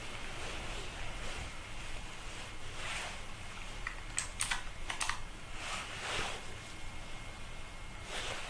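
Typing on a computer keyboard resting on the ground makes rapid, uneven clicking keystrokes under a constant wash of broadband noise like wind or surf.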